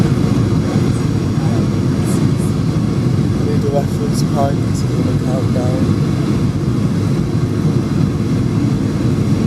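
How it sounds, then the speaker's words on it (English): Ryanair plane landing at Oslo Airport, heard from inside the cabin as a loud, steady broadband engine and airflow roar that holds for the whole stretch, with a person talking over it. "here's the Ryanair plane landing."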